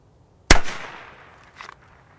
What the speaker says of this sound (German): Auch wieder rote Knaller.